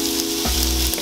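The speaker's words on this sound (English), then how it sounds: "I'm going to put like the cut side down to let sear faster." Potato halves sear cut side down in hot oil for Korean braised potatoes, giving a steady, close frying sizzle that runs alone for about a second, with a low hum underneath shifting partway through.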